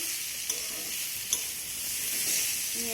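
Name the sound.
stirring pointed gourd, potato and fried shrimp in spices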